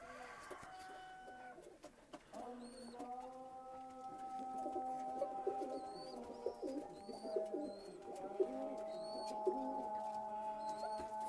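Pigeons in a loft coo softly and repeatedly, with layered, droning calls that overlap and swell; other chirping birds are faintly audible in the background, all of it fairly quiet and steady.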